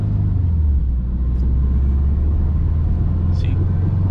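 A 2006 Subaru WRX with a JDM-swapped 4.44 gearbox rumbles steadily from inside the cabin, its engine droning loud and continuous through a gear shift with no clear rise or dip.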